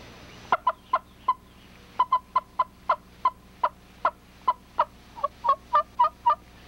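Rapid, irregular string of sharp clucks imitating an excited turkey hen's cutting, made on a mouth diaphragm call, close and alone with no talk, ending in quicker paired notes.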